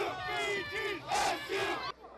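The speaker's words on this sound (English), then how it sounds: "fans headed out to cheer on their team" A crowd of football fans yells and chants together before the MAC championship game between BG and NIU at Ford Field, loud and close, with voices rising and falling in bursts for about two seconds before cutting off.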